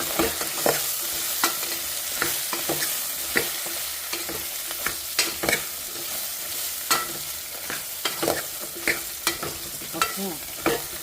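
Food fries in a pan and is stirred, with repeated sharp scraping strokes at an irregular rhythm over a constant loud close sizzle.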